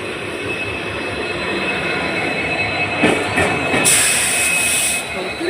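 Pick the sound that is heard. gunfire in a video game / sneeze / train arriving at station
train arriving at station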